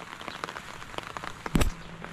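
Rain patters on a farm field in a soft, even spray of drops, with one brief louder thump near the end and no talking.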